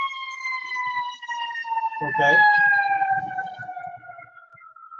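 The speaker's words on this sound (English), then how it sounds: "There's the ambulance going by." An ambulance siren sweeps past, its wailing tones steadily falling in pitch as it goes by, loud throughout, while a person speaks briefly in the middle.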